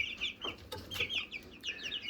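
Several backyard chickens, a Rhode Island Red cross among them, cluck and chirp close by in repeated short calls with no talking over them.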